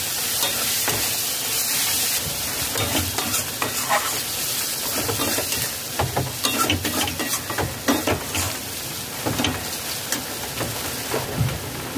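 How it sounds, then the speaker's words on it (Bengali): Ground spices for chicken tikka masala frying on low to medium flame, a continuous close sizzle with repeated scraping and stirring strokes in the pan, no talking. "ভালো করে নাড়াচাড়া করে মশলা কষিয়ে নেব।"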